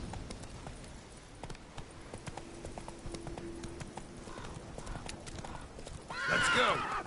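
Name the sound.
horse Roach hooves clip-clopping in Witcher 3 video game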